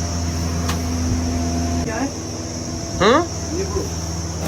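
A sugarcane juice ice cream machine hums steadily with a loud, constant electric drone and a faint whine, while a few brief voices break in over it.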